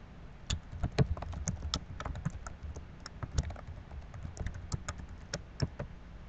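Keys clatter on a computer keyboard in a steady burst of typing, with close, fairly quiet clicks and irregular taps carrying on throughout.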